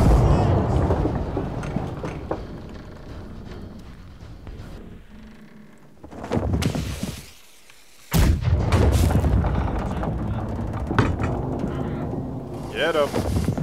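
Ship cannons booming in the naval battle game Blackwake, heavy low blasts and rumbling reports in a loud sustained barrage with a brief lull, as players call out over the fire.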